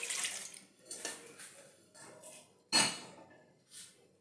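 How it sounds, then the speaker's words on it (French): Warmed milk and water go into a bowl for sandwich bread dough, a quiet close pour with soft splashing in a few short bursts, ending in a sharper splash. "Là je fais tiédir mon lait et l'eau. Je verse dans le bol."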